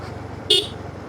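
A vehicle gives a single short horn beep on a misty hill road in Bandarban, sharp and brief over a steady low engine hum.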